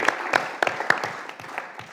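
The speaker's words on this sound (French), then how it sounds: "je crois qu'on peut l'applaudir" Applause at a municipal council meeting, scattered individual claps from a small audience, fairly close and fading toward the end.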